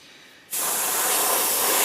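An airbrush bursts into a steady, loud hiss of spraying paint after half a second of quiet, continuing evenly up close.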